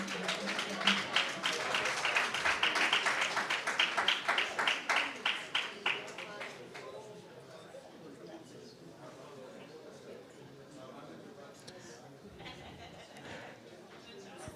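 Audience clapping at an award presentation during a governance roundtable, dense applause for about six seconds that tapers off, leaving quiet room tone with faint voices.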